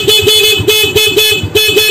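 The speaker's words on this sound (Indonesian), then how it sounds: "klakson juga normal, motor normal." A motorcycle horn beeps in a rapid series of short, loud, evenly spaced honks, close by, on a motorcycle being fitted with a simple anti-theft alarm.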